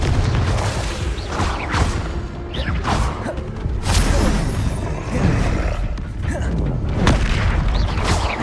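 Confringo spell blasts in the video game Hogwarts Legacy, repeated loud booms and whooshing bursts over dense combat noise and game music, with a voice shouting spell names.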